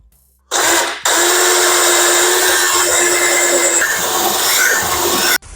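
A power drill whines steadily at high speed, grinding into hard reinforced material while fitting ceiling panels, with a brief pause near the start, loud and close.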